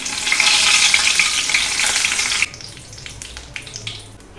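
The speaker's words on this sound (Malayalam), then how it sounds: "കടുക് പൊട്ടിക്കഴിഞ്ഞ് വേപ്പില ഇടുക." Mustard seeds popping in hot oil as curry leaves go in: a loud burst of crackling sizzle for about two seconds, then it drops to a quieter bubbling fry with scattered pops, no voices.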